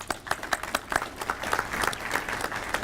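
A modest crowd at a fire department swearing-in ceremony claps in uneven, separate bursts that thicken into brief applause, fairly close and without voices.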